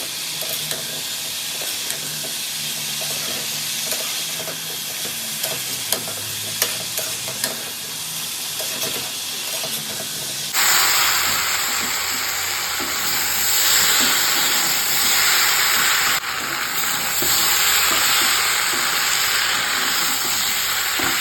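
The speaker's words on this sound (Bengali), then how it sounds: "এবার সবজিটাকে ভাল বেশ ভালো করে নাড়িয়ে এটাকে কষাতে থাকবো" Mixed vegetables for a Bengali mixed-vegetable curry being stirred and fried in a pan, heard as scraping and clinking at first, then a loud, steady sizzle with hiss that continues to the end.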